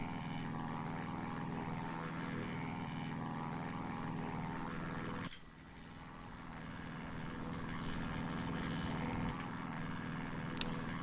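A Christen Eagle II propeller biplane flying in DCS, with a steady droning engine and propeller hum that dips briefly midway and then resumes at an even, close level.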